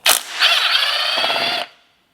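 Power tool working a hidden screw on the intake manifold of a Volkswagen 2.0 TDI BKD engine: a brief click, then a loud, close whirring spin of about a second and a half that stops abruptly.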